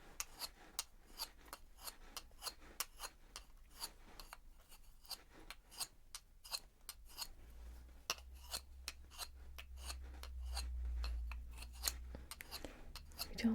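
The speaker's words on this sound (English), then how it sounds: "So I'm just going to peel the top of the mushroom first of all." A wooden toy mushroom has its top peeled away by hand, making a string of sharp, close, crisp clicks and scrapes at an irregular rhythm that become denser toward the end, soft and intimate under quiet whispering.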